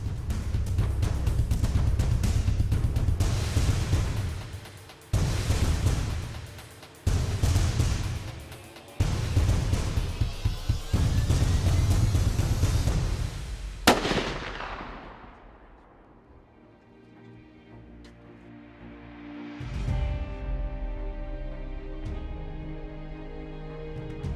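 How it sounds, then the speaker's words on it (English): Several loud, sharp reports from a .30-06 rifle being sighted in at a 100-yard range, separated by gaps of a few seconds, followed by a long fading echo and quieter outdoor ambience. "we're sighting in this 30-06 that we determined was probably the best gun for me to use tomorrow"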